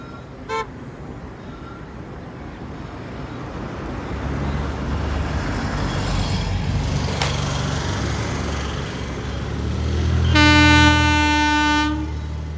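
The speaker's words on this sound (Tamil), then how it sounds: "இப்போதைக்கு ட்ரெயின் வந்து பாம்பன் ரயில்வே ஸ்டேஷன்லேருந்து கிளம்பியாச்சு பாருங்க" A train departing Pamban railway station rumbles steadily as it gets moving, growing louder, then a loud horn blasts near the end. A short tone sounds at the start.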